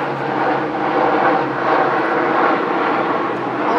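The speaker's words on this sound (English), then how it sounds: "hello plane" A propeller airplane drones steadily overhead, a loud, even engine hum that holds for several seconds with no voices.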